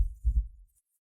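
A heartbeat sounds as a soft, low double thump, two close muffled beats near the start, followed by silence.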